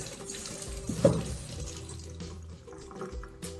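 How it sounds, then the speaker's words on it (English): A moderate stream of tap water runs into a sink as grapes are rinsed and rolled by hand, a soft continuous splashing with a brief louder splash near the start. "turn on a stream of water, not too strong"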